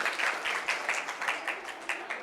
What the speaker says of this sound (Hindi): बिल्कुल सही जवाब है, जोरदार तालियां